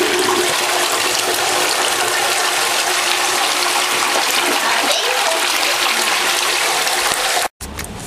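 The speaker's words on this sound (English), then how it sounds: "I'm gonna flush them." A toilet flushes with a loud, continuous rush of water that runs for several seconds and then cuts off abruptly.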